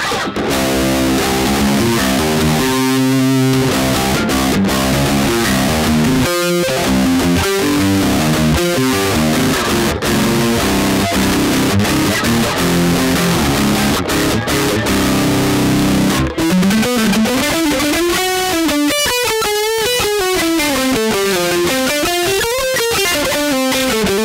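An electric guitar runs through the Emissary amp simulator VST plugin, giving a loud, heavily distorted tone with chugging riffs and held chords, then bending sustained lead notes near the end, with no talking.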